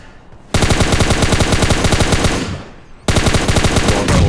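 Rapid automatic gunfire in a battle royale video game, shooting at a bot: two loud, close bursts of steady rapid shots, the first fading out before a second burst starts, with no talk.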